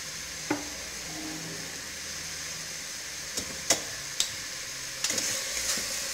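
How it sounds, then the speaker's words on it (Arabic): Canned tomatoes and other ingredients fry together in a pot for harira, giving a steady soft sizzle broken by a few sharp clinks and scrapes of stirring. "ونقلي كل شيء مع بعض"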